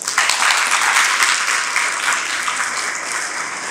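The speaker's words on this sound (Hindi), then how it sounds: "आगे की पंक्तियों में आपकी तालियां चाहूँगी।" An audience at a live Hindi stage performance breaks into dense, sustained applause. It swells quickly and holds steady, with many hands clapping together and a gradual slight fade.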